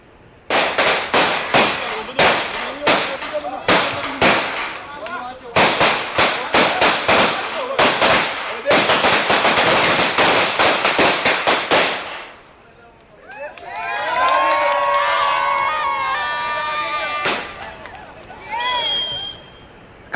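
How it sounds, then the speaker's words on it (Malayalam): Villagers in Pancharakolli set off firecrackers to celebrate, a rapid string of loud sharp bangs crackling in bursts, followed by voices shouting and talking. "പഞ്ചാരക്കൊല്ലിയിൽ പടക്കം പൊട്ടിച്ചാണ് നാട്ടുകാരുടെ ആഘോഷം."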